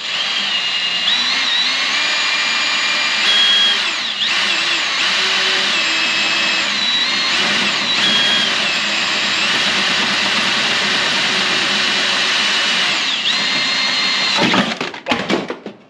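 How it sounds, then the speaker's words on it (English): A power drill with a center drill bit bores into a steel Ford part for a DIY snorkel, producing a loud, sustained high-pitched whine with shifting pitch that stutters out near the end. "the center drill doesn't, or bit doesn't cut very well"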